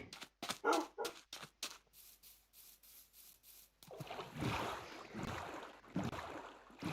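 Dog sounds from a Build Craft video game, heard as several short, sharp bursts in quick succession that give way to a denser, noisier stretch of ambient game sound.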